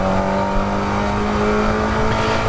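A Mazda MX5 race car engine drones steadily and loudly at Croft circuit, holding a sustained tone with a slight rise in pitch, heard from close by with no talk.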